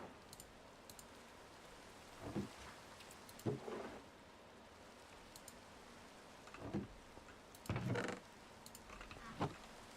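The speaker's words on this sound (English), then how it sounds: "It's raining again." Steady, faint hiss of rain in Minecraft's All The Mods 9 modpack, with a few soft, irregular louder patches scattered through it and no voices.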